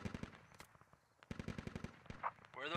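Video game gunfire crackles in rapid automatic bursts, two long strings of shots separated by a short pause, fairly loud and close, with a faint voice near the end.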